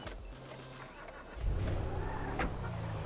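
A car engine in an online multiplayer video game runs steadily in the background, with a low rumble that swells and grows louder partway through.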